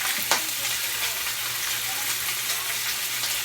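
Two slices of turkey bacon fry in a pan, giving a constant bright sizzle and crackle from close by, with a brief clatter near the start and no talking.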